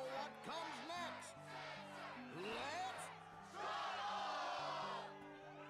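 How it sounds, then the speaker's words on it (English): A crowd in the Kingdom Hearts 2 Final Mix video game roars and whoops at a Struggle match, excited voices rising and falling under a steady game music backing, fairly faint overall. "the crowd is fired up"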